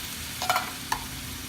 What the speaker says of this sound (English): I just use the can to put some water in. Stir around.